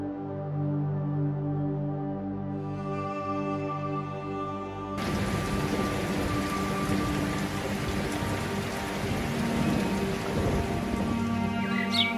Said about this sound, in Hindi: इतनी बारिश मेरी सारी फसल तबाह होगी।